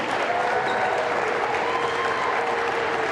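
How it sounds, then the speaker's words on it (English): A gym crowd at a girls' high school volleyball senior night claps for the graduating players, a continuous full wash of applause with faint cheering tones underneath. "Ladies and gentlemen, a round of applause for your Sterling Lady Knight seniors."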